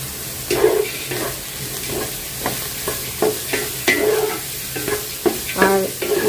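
Long beans stir-fry over high heat in a pan for chicken vegetable fried rice, a constant sizzle broken by repeated scraping and tossing strokes of a spatula, near and fairly loud.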